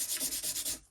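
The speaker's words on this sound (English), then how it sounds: "I'm just going to give them a wee light sand down" Light hand sanding of small wooden drawers, in five quick, even back-and-forth rubbing strokes, close and crisp, then trailing off.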